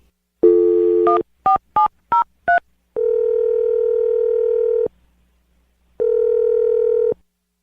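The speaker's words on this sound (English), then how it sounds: "I'm going to dial the number right now" A telephone dial tone plays, then five quick DTMF key beeps dial a number, followed by two long steady ringback tones separated by a pause, clear and close with no voices.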